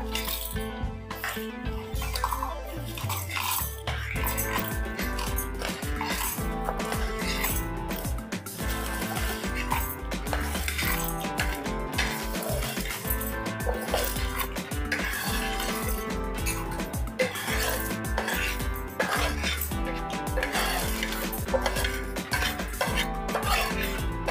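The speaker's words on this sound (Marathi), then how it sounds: "आपण आता हे मसाले मिक्सर मधून काढून घेऊया." Freshly ground spice powder is scooped out of a mixer jar, giving a long run of busy metallic clinks and scraping of a spoon against the jar, close and continuous.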